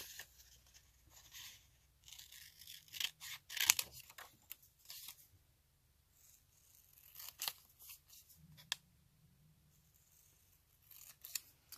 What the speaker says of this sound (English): I can probably just cut this out by hand really quickly